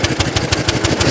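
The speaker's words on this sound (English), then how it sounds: "you want to give her a few revs for the exhaust whistle?" A 1904 De Dion Bouton veteran car's engine putters and revs close by, its rapid, regular, loud chugging pulses thumping about ten times a second with no voices.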